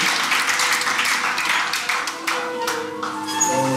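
A church congregation applauding during a worship evening, dense sustained clapping from a crowd that thins slightly toward the end, with voices talking over it.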